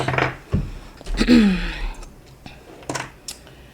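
A few sharp mechanical lighter clicks spaced apart while relighting a candle, with a soft breathy rush in between, close and fairly quiet.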